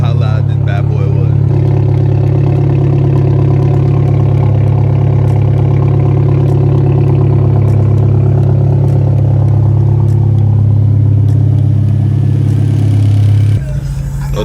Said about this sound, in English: Forgot how loud this bad boy was.